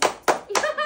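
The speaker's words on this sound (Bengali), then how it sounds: "একটা জোরে হাততালি দাও" Three sharp, close hand claps in quick succession during a family rope-pulling game at home, loud and crisp with a touch of room echo.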